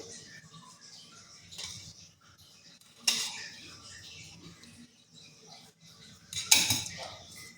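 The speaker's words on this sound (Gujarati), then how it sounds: "હવે ફરીથી આપણે બધું મિક્સ કરી લઈશું." A spoon mixes a ladoo mixture of churma, jaggery, ghee and raisins in a bowl, giving soft scraping with a few sharper clinks against the bowl, quiet and close.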